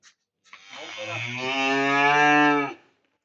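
A single cow gives one long, loud, close moo that swells and holds for about two seconds before cutting off, heard alone against a quiet background.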